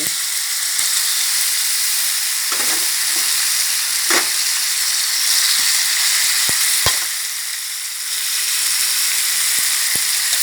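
Shark meat stir-fried with curry paste in a hot pan gives a loud, steady sizzle and hiss, broken by a few sharp clinks and scrapes of the stirring utensil, with no talk.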